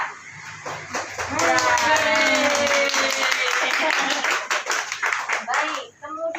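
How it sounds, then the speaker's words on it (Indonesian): Clapping from an audience at a Catholic women's association branch meeting, a dense burst of many hands that swells, holds steady for several seconds and then thins out, with voices and a drawn-out vocal sound mixed in over it. "Mari beri tepuk tangan."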